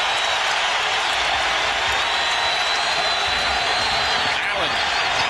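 A packed arena crowd at a 2001 NBA playoff game between the Milwaukee Bucks and Philadelphia Sixers roars steadily, with a dense, continuous wash of cheering and noise throughout.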